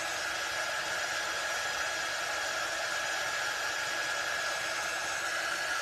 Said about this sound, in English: I'm like putting my dryer almost touching it. Like, hurry up and dry.